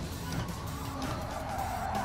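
Race car tires squealing and skidding in the racing video game GT Sport as the car nearly spins, a steady continuous screech over engine noise lasting about two seconds.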